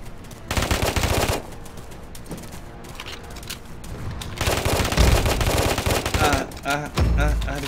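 Rapid bursts of automatic gunfire from a video game fight, loud rattling volleys separated by short gaps, with heavier clusters near the end.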